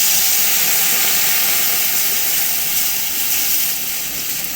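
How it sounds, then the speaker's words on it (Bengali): Water poured into a hot pan of freshly fried pakoras gives a loud, steady sizzling hiss that barely fades over several seconds, with no voices over it. "এবার আমি এতে জল ঢেলে দেবো।"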